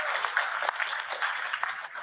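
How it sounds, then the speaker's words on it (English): A live audience at a talk applauds, a dense, steady patter of many hands clapping together for a couple of seconds. "Give yourselves a round of applause."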